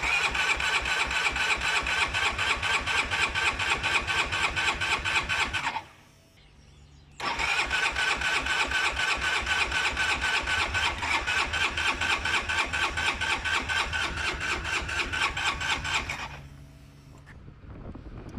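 A 2017 Honda XR300 motorcycle with about 43,500 km cranks repeatedly on a cold start, the starter churning in a long rapid rhythmic grind, pausing briefly, then grinding again without catching, loud and close.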